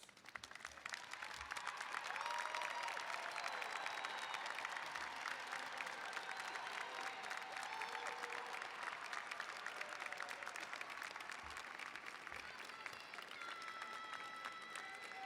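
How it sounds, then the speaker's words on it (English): A large audience at a graduation commencement claps steadily for a sustained stretch, dense and even, heard from a distance with no voices. "join us in applauding the families and other supporters of our students who are here today"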